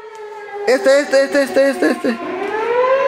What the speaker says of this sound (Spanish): ¡Están sonando la sirena!